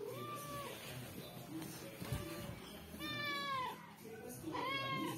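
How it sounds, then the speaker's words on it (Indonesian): A hungry ginger cat meows several times in rising, drawn-out cries, close and fairly loud, with a person's voice faintly mixed in beneath. "Kucing ini kalau lapar begini guys"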